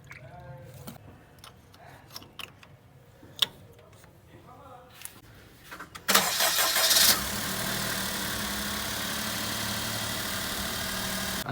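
A Daihatsu Mira car engine, freshly restored and topped up with coolant water, cranks and fires, then settles into a steady, loud idle, preceded by quiet clinks and workshop tapping.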